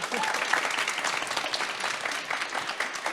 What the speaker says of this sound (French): Bah, ça s'applaudit aussi